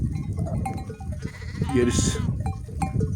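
A sheep bleats once, a wavering cry rising over a rumbling background of livestock noise, with someone talking underneath.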